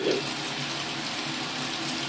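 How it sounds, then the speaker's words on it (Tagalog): Water pours steadily into a pan of soy-marinated chicken wings, a continuous hissing splash lasting a couple of seconds, close and fairly loud with no talking. "So, magdadagdag tayo ng tubig."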